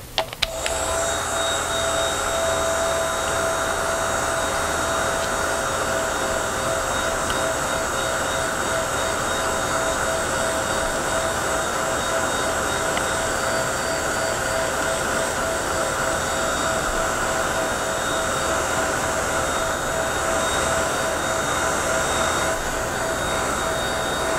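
A dryer blows steadily on a freshly painted craft piece for a friendship garden gift basket, finished in gloss paint. The loud, constant whooshing airflow runs unbroken for the whole stretch, with no talking.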